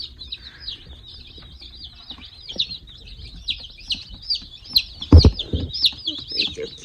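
Baby chicks peep continuously in rapid, high chirps close by under a heat plate, with a few muffled handling thumps and a short burst of voice partway through.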